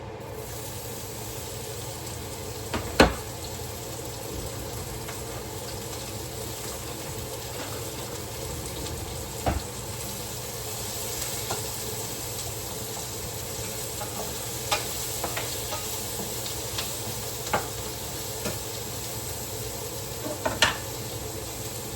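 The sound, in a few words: onions sautéing in a pan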